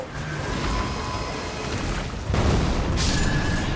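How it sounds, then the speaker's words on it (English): An enemy explosion in the Elden Ring video game bursts out as a dense, roaring boom, swelling in loudness partway through with a rumbling, crackling tail and no speech. "They only explode if you stay near them for too long."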